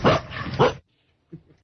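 A recorded dog barks twice in quick succession, loud and close, followed by silence and then a faint, short low sound.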